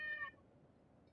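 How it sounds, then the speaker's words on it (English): A cat in the Minecraft Technic modpack video game gives one short, clear meow at the very start, followed by near silence. "There's a cat here."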